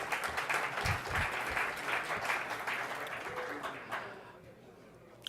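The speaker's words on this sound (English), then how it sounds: "Give him a big round of applause." Conference audience applauding at a space business plan competition, a dense burst of clapping that swells, then thins and fades out toward the end.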